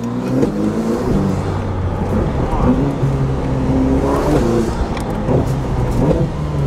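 A Ferrari SF90 sports car revs and shifts through its gears, engine pitch climbing and dropping in quick steps, loud and close from inside, with people talking over it.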